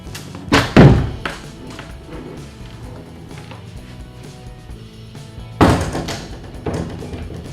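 Old double doors in an apartment being opened, with two heavy wooden thumps and rattles spaced several seconds apart, close and fairly loud, with a faint creak between them and no talking.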